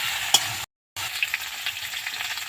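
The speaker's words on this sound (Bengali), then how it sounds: "এবার আমি ভেজে নেব কপিগুলো।" Cauliflower pieces sizzling in a pan, a bright, steady frying hiss with a sharp utensil tap near the start and a brief total dropout partway through before the sizzle resumes.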